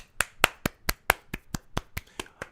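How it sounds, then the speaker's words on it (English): About a dozen sharp, evenly spaced claps ring out in a steady rhythm, close and distinct, with no voices, a small round of applause at a rap music live show. "A round of applause, people."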